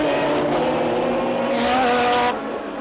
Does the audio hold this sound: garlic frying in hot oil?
no